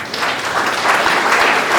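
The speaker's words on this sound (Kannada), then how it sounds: "ಈಗ ನಾನು ಚಪ್ಪಾಳೆ ಹೊಡ್ಕೊಡ್ತೀನಿ" Loud, close applause from a group of college students at a motivational training session, brisk overlapping clapping that holds steady throughout the short burst.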